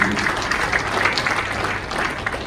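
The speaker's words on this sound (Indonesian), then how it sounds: "Kasih tepuk tangan bagi nama." Members of a church congregation at a Sunday worship service clap together, a moderately loud, continuous patter of applause with some voices mixed in.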